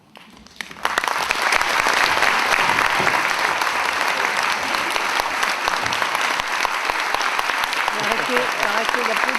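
After a brief quiet start, a theatre audience at a school drama workshop bursts into loud, sustained applause, a dense wash of clapping that holds steady, with voices mixed in.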